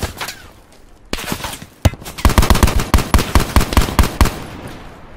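Enemy gunfire in Black Ops 4 Blackout: loud, close automatic bursts with rapid, evenly spaced sharp shots that carry on steadily after a few opening cracks.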